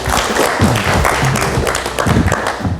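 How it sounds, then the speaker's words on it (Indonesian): Studio audience on a late-night talk show applauds guest Ruby Alamsyah, steady loud clapping filling the room, with voices and music murmuring underneath throughout. "Boleh tepuk tangan sekali lagi untuk Mas Ruby Alamsyah"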